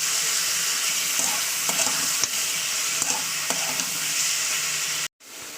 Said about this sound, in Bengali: মাংসটা দিয়ে একটু তেলের সঙ্গে নাড়ি চাড়িয়ে নিতে হবে